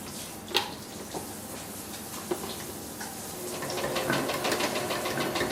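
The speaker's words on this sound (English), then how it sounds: "something my sewing machine can handle" A quiet, fast mechanical whirring with light rhythmic ticking builds steadily, with a few sharper clicks scattered throughout, from a sewing machine stitching fabric.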